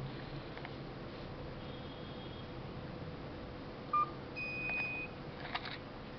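Faint phone keypad tones sound while a password is typed into a mobile-based appliance controller: a brief tone, then a short beep, over steady phone-line hiss.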